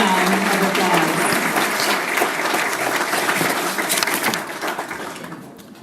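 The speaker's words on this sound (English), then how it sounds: "Let's give all of them a big round of applause." Applause from a dinner audience at the 2017 Nisei Veterans Dinner, a steady wash of clapping hands that stays fairly loud and then thins out and fades over the last second.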